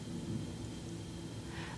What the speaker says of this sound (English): Oh, I hear thunder.